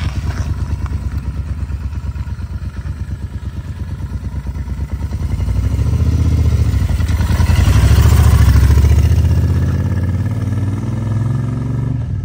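A Moto Guzzi 750 S3 motorcycle engine running close by with a deep, low rumble that swells louder mid-clip as it is revved, then settles back, with no talking.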